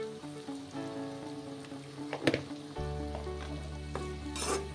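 Onions sauté in a pan with a soft, continuous sizzle, a sharp clatter of a spoon against the pan near the middle, and a low hum underneath.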